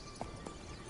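Horse hooves clip-clopping in The Witcher 3, two soft thuds in under a second, faint against a steady wash of game ambience.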